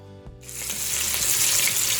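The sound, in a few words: pot roast meat searing in a pan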